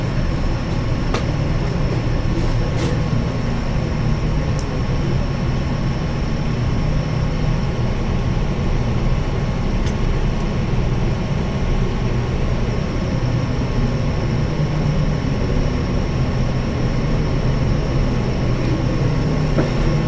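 British passenger train heading to Bournemouth, heard from inside as a steady, loud, continuous rumble with a faint hum, running unbroken without anyone speaking.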